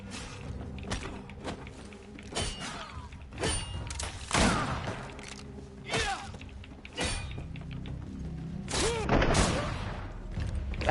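Gunfire in the video game GreedFall: a series of sharp, loud shots and impacts in irregular bursts, some followed by ringing tails and thuds, with quieter game sounds between.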